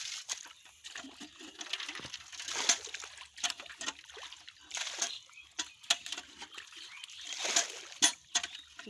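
Boys scooping water by hand and foot to catch fish, with irregular splashes and sloshes close by, scattered bursts of splatter across the clip and brief voices in the background.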